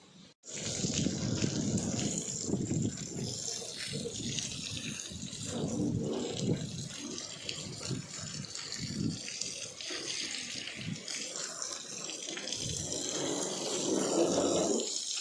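A water hose sprays a parked vehicle during an outdoor wash, making a loud, continuous gushing rush up close that lasts throughout with slight surges, and no talk is heard.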